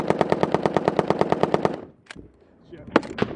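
M240 and M249 machine guns fire in a firefight, a loud rapid string of about fifteen evenly spaced shots, then a pause and a few scattered echoing single shots.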